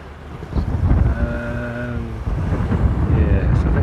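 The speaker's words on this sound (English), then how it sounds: "it's quite windy here" Wind blows hard across the microphone on a windy stretch of coast, a gusty low rumble running throughout, with a steady engine-like drone from a passing boat in the middle.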